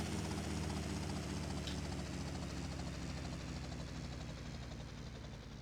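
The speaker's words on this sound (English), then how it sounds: "you know, with my helicopter" Helicopter in GTA Vice City holds a steady, close rotor and engine drone that fades slightly toward the end.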